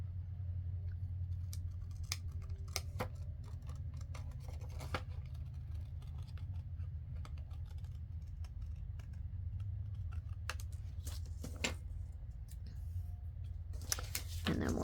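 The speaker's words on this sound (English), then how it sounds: "let me go ahead and cut this out, as long as I already have it marked." Scissors cutting out a paper pocket for an envelope project, scattered crisp snips and paper rustles close up and faint over a low hum, with a louder burst of cutting near the end.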